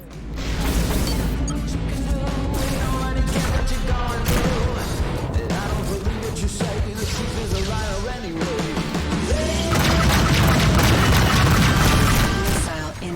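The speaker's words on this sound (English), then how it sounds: "It's a lot of missiles I'm eating." Missile hits pounding a ship in the space combat game Rebel Galaxy Outlaw: a loud, continuous barrage of booms and crashes layered over engine roar and music, with brief voices breaking through.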